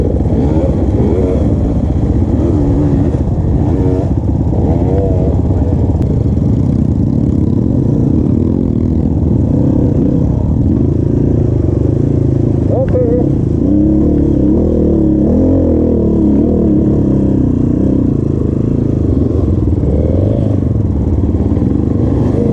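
A motocross motorcycle engine braking on a trail ride, its loud, steady rumbling engine note rising and falling slightly as it slows, continuous and close, with some clattering and no talking.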